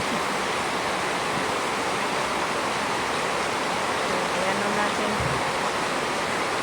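Saved rainwater pours steadily into an empty plastic mineral-water gallon jug, a continuous close rushing splash with a brief voice speaking over it.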